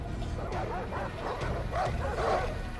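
Dogs bark and yip repeatedly in a Far Cry 3 game scene, a loose rhythm of fairly faint barks over a busy background.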